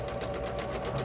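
Kenmore 385 Series sewing machine darning fabric held in an embroidery hoop, its needle running in a steady, fast whir that hums evenly and close up throughout.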